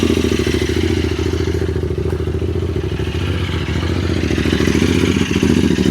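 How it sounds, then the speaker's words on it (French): QJ Motor SRT 600 SX midsize trail motorcycle, its engine and exhaust giving a steady, raspy, moderately loud drone that holds even and close throughout, without talk. "Pour ce qui est de la ligne d'échappement, eh bien, je trouve que le bruit est plutôt sympa. Un bruit rauque, présent mais pas trop."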